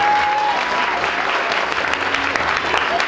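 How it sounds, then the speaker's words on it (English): Audience applause at a trashion show of garments made from paper cups, magazine pages, shopping bags, cardboard and t-shirt scraps, a steady dense clapping from a crowd that fills the whole stretch at even loudness. "Let's give a big round of applause"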